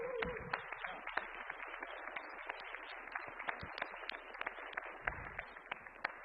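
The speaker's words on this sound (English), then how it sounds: "we can give him another round of applause" Polite audience applause at a talk on traditional seed preservation, a steady patter of many hands clapping continuously, soft and somewhat distant, with no voices over it.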